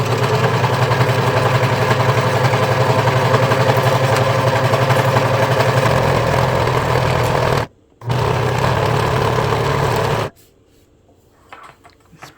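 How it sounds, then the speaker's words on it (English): A Janome Pro 4DX serger stitching fabric, a loud continuous rapid mechanical whir running close up, stopping briefly, starting again, then cutting off into quiet handling. "So I'm using a Janome Pro 4DX serger."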